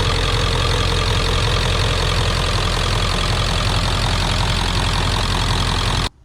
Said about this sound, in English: I feel good that engine is going to last me a long time on this vehicle.